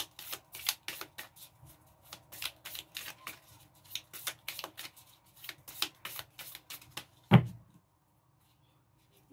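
Oracle love cards shuffled by hand in a steady run of crisp riffling flicks and slaps, close and fairly quiet, with a sharper louder card thump near the end and no talking.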